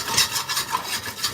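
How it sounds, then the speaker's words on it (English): A utensil scrapes repeatedly across a pan of curry as it cooks, a close, rhythmic rasping in quick strokes with no voices. "Sorry if I have to scrape the pan"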